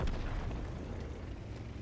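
A tank fires a blind shot in a video game, a deep, muffled boom with a rumbling tail that fills the short moment at moderate loudness.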